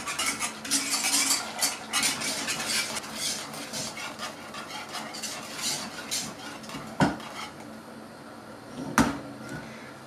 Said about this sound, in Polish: Mieszamy, żeby nie zrobiły nam się grudki i żeby nie przywarło do dna.